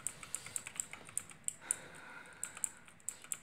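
Computer keyboard keys clicked during a speedrun of the game Master Reboot: sharp, irregular taps in quick bursts with short pauses, fairly close, and no talking.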